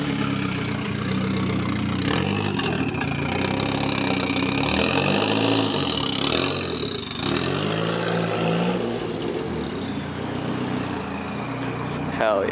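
A Ford Ranger drift truck engine idling, a loud steady rumble close by with a slight swell in revs midway, as people talk over it.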